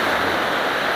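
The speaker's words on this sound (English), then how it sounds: "Watch out for that wave" Ocean waves crash along the shore where people are fishing, a loud, dense, unbroken roar of surf with no talking.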